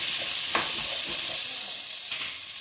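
Vegetables for veg biryani cook in a pan with a steady, close sizzle and hiss, broken by a few light stirring scrapes and clicks, without speech.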